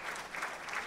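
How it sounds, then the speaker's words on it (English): Brief, faint round of applause from the crowd at a 2014 World Squash Championship final, a soft distant patter of clapping under a second long. "that's a round of applause"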